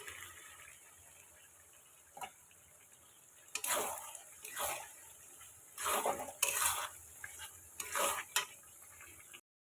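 Tomatoes are added to browned onions in a pan and fry with a steady soft sizzle, broken by several louder bursts of hissing and stirring scrapes, close and without talk.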